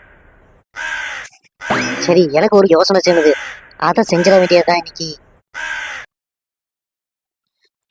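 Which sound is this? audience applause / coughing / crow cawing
crow cawing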